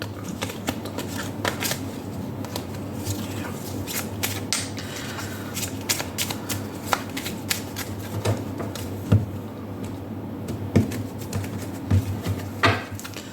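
Tarot and oracle fortune cards being shuffled and handled for a reading, a steady papery riffling with scattered crisp flicks and snaps, close up over a low constant hum, with no talk.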